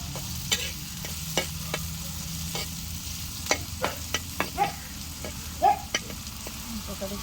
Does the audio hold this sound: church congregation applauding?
no